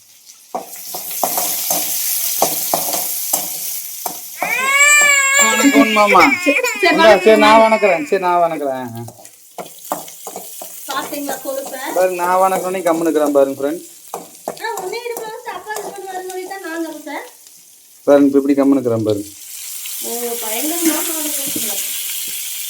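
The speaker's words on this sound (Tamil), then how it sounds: "கடுகு பொறிஞ்சிச்சு வெங்காயம் கருவேப்பிலை இது வணங்கினதுக்கப்புறம் தக்காளி" Mustard seeds, onion, curry leaves and tomato frying in a pan give a steady sizzle with stirring, heard near and mostly under someone talking.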